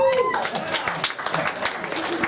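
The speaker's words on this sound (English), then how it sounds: "By round of applause" A comedy club audience breaks into applause when polled during a stand-up set, a brief burst of scattered clapping with a voice talking over it.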